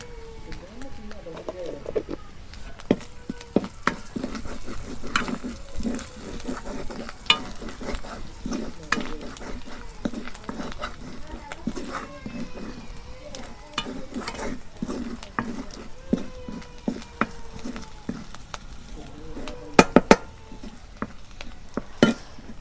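Cumin seeds fry in a pan in a village kitchen while a spoon stirs them, giving a steady low sizzle broken by frequent scraping clicks, with someone talking over it.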